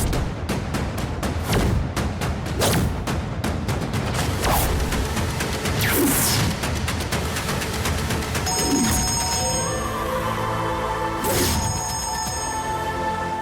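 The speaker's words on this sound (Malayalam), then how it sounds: "എവിടെ ഫോൺ ബെല്ലടിക്കുന്നില്ലേ" Somewhere inside a house a mobile phone rings, a repeating electronic ringtone entering partway through over a busy bed of clattering and thumping household noise.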